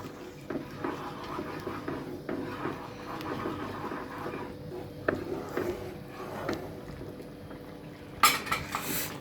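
Vegetable soup being stirred right after an egg is added, with a spoon clinking and scraping against the pot at an irregular pace, moderately quiet, and a sharper clatter near the end.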